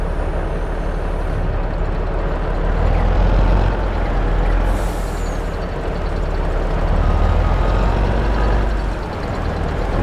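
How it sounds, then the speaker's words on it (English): A heavy truck engine in Farming Simulator 22 labours loudly and steadily as it pushes a load uphill, with a deep rumbling drone that swells slightly and never lets up. "Glad I've got this truck. It really needs something with an awful lot of oomph to push this up there."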